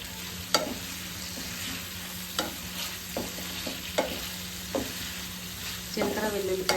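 Garlic and tamarind frying and being stirred in a pan, a steady close sizzle broken by repeated scraping and stirring clatters.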